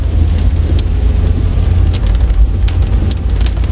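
Steady rain patters on a moving Toyota Calya E 1.2 manual from 2016, mixing with the constant low road and engine rumble, loud and unbroken with no talking.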